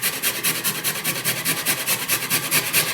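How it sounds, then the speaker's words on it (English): Peeled ginger is rubbed over a very fine grater in quick, even back-and-forth rasping strokes, close and steady with no talk. "use a very fine grater"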